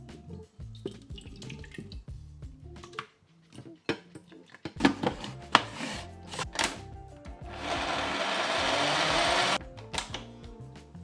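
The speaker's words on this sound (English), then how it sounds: "first things first, we have to blend up our cherries into a liquid" A food processor or blender purees cherries into a liquid, a loud sustained whirring run that lasts a couple of seconds near the end, with clattering kitchen handling and scraping before it.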